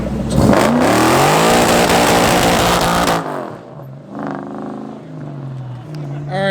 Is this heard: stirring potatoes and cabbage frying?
no